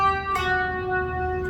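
A guitar plays a few sustained notes from an intro riff, one pair struck together and left ringing clearly for over a second, with no talk.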